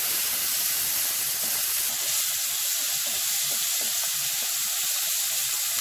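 Tomato and onion sauté in a hot pan for CKP-style chicken sukke, giving a steady close sizzling hiss that runs unbroken throughout with no voices.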